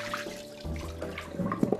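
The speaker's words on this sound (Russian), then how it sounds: "Для начала картофель нужно очистить и слить из него лишнюю воду." Water splashes and trickles briefly as it drains from peeled potatoes, with a few wet clatters and drips toward the end, close and moderately loud.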